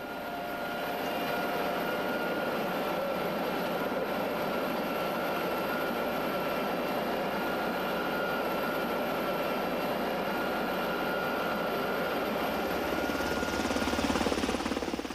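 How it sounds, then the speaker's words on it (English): Coast Guard HH-65 Dauphine medium-range helicopter on a search and rescue mission, a steady loud rotor and turbine drone holding throughout and swelling slightly near the end, with no voices. "the HH-65 Dauphine medium-range helicopter"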